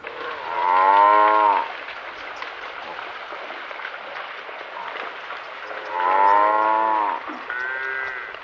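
A water buffalo lows twice in a Kurdish farming village, with long, drawn-out calls separated by several seconds of quiet, fairly close and clear with no talking.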